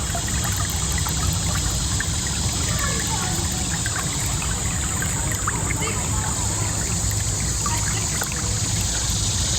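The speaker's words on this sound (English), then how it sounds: "Just give you a few seconds of that babbling brook sound." A small babbling brook flows steadily at a campground, a continuous close trickle and wash of water running the whole time with no talk over it.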